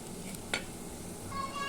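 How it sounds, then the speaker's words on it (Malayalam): Chili powder and coriander powder being stirred in a frying pan for a Kerala cashew nut theeyal, a steady close sizzle with soft scraping strokes and one brief sharp clink partway through. "ഇനി ഈ മുളക് പൊടിയുടെ മല്ലിപ്പൊടിയുടെയൊക്കെ പച്ചമണം മാറുന്നിടം വരെ ഒന്ന് ഇളക്കിയിട്ട്"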